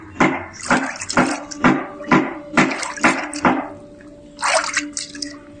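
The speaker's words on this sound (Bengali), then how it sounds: "তার মধ্যে দিলাম পানিটা একটু মিক্স করি" Water is stirred and sloshed in a container as pigeon medicine is mixed in, about eight rhythmic splashing strokes close by, then a pause and a final swish.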